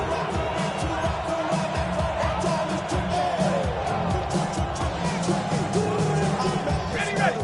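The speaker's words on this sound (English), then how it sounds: "This crowd doing everything they can before 3rd and goal." Dense stadium crowd roar at an NFL game between the Falcons and Saints late in the fourth quarter before third and goal, a constant loud wash of cheering and yelling filling the whole stretch.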